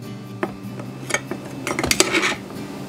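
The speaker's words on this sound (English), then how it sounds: "I'm going to take my little offset spatula and level off my measuring cup" Metal offset spatula scraping across the rim of a measuring cup of flour, with light clinks and scrapes of kitchenware, several close taps building to a denser clatter, no talking.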